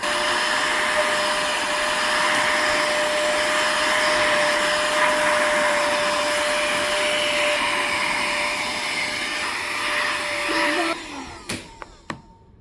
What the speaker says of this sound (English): let's see how it works on some dust on my laptop